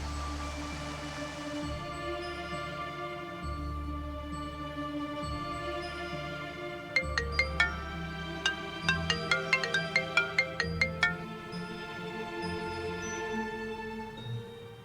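A phone ringtone plays as a repeated melodic electronic tune, a run of bright chiming notes in the middle of the clip over a steady low background hum, with no voices.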